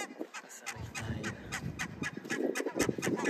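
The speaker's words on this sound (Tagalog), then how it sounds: "Ay, dami mga ibon na yun." A flock of birds calls near snowy ground at Suomenlinna, Finland, a rapid run of repeated honking, gobbling calls overlapping one another, fairly close and rising slightly in loudness toward the end.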